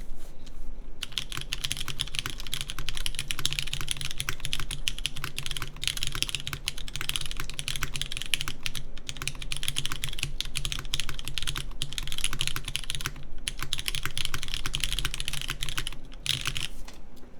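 Keys on a newly built Touchstone mechanical keyboard are pressed in a long, continuous run for testing, producing dense, close clacking that pauses briefly now and then, with no speech.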